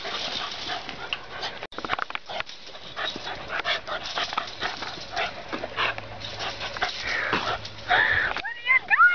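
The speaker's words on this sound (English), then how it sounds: "Puppies! What are you doing?" Playful puppies yip, whimper and sniff in short bursts close to the listener, while someone talks and greets them excitedly over the top throughout.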